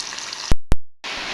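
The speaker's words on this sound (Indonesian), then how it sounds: "Ini aku goreng pakai tepung aja." Flour-coated food frying in hot oil gives a steady, loud sizzling hiss that cuts out briefly twice before resuming.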